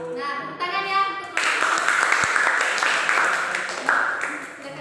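Students clap together in a classroom during a micro-teaching lesson on citizens' rights and duties, a steady burst of applause lasting several seconds right after a teacher's voice stops.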